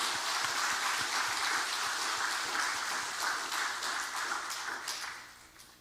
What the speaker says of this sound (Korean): 옆에 계신 어르신들을 위해서 박수 한번 하십니다